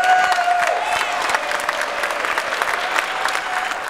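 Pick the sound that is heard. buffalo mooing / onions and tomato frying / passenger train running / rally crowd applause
rally crowd applause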